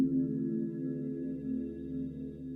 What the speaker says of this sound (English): I'm trying to use that as a transition effect between like these main phrases